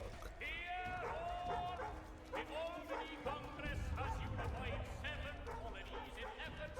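A dog in Assassin's Creed 3 Remastered gives a few short, fairly faint barks and yips mixed in with street ambience, footsteps and people talking.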